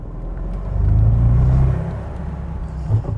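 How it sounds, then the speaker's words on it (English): A Bentley Continental V8 with the top down gives a deep, loud engine rumble that swells and eases, with a faint whirring turbo note and a brief rise near the end. "A Bentley should have like a solid granite-like sound, and this car delivers that."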